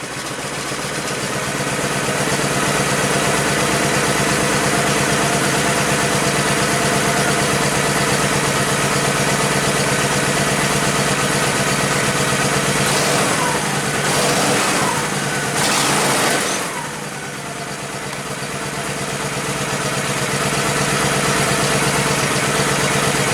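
A motorcycle engine with freshly rebuilt carburetors starts and settles into a loud, steady idle close by, with a brief dip and a few blips in the middle before the even running resumes.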